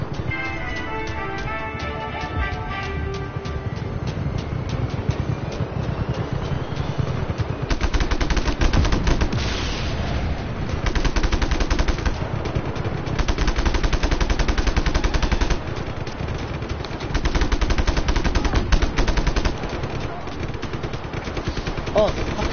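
Rapid machine gun bursts ring out in the Just Cause video game, sustained rattling volleys repeating across the whole stretch, loud and close in the mix.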